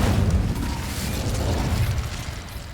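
The Incendio fire spell erupts in the Hogwarts Legacy game with a loud, rumbling burst of flame and booming low roar that swells and then fades over a couple of seconds.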